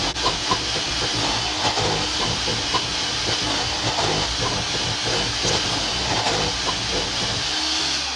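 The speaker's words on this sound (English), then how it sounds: "I take my handy little hand mixer here and I'll mix using this" A small handheld electric hand mixer whirs steadily through dry bath bomb mixture, a continuous close hissing drone with faint scraping ticks throughout, no speech.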